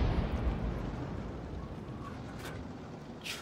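A 105 leFH18B2 artillery shell striking a ridge line in the World of Tanks video game, heard as a heavy, rumbling explosion that is loud at first and slowly fades, followed by a couple of faint higher clicks.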